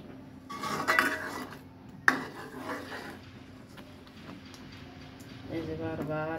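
Milk kheer thickening in a pot while being stirred: metal spoon clinks and scrapes against the pot, with one sharp knock early on, then quieter scraping, and a voice faintly heard near the end.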